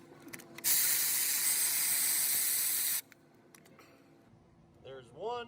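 A ratchet on a 15 mm wobble extension works at the upper starter bolt of a Chevy Equinox, with quick ratcheting clicks near the start, then a long loud spray-like hiss for about two seconds, followed by faint clicks and a short voice.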